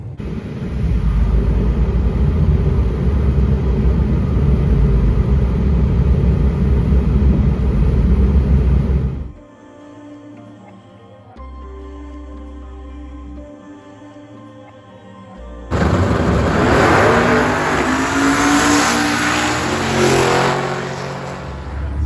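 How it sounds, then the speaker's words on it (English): Drag race cars with a turbo LS 5.3 roar loudly and steadily at a small-tire event, the engine noise dropping to a quieter idling hum mid-way before another loud burst of acceleration. "Hopefully we'll both make good, decent passes and neither one of us smoke the tires"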